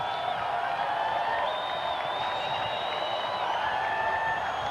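Baseball stadium crowd during a Cardinals at Reds game: a steady, distant wash of crowd noise with scattered whistles and murmuring cheers, continuous throughout.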